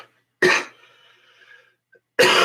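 Two harsh, close coughs about two seconds apart, separated by a quiet breathy pause.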